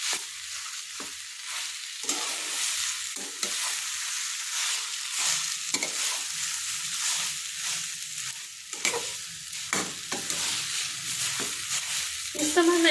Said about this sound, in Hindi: अच्छे से मिक्स कर लूंगी इसे और अच्छे से इसे भून लूंगी।